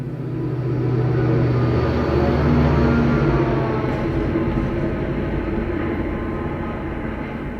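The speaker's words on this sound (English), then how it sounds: "There's a train coming, hold on." A train passes nearby with a steady, loud low rumble and rolling rail noise that swells and holds throughout, with no voices over it.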